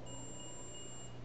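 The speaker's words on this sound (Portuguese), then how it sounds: "Do outro lado do capacitor tem que bipar." A multimeter's continuity beep sounds as the probes test a capacitor on a Dell VF0MH motherboard: a faint, steady electronic tone held for about a second over low background hum.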